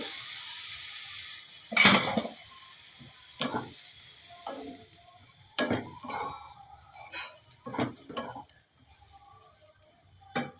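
Suji upma sizzles softly in a pan after water is added, with intermittent scraping stirs and clinks of a spoon against the pan at irregular intervals.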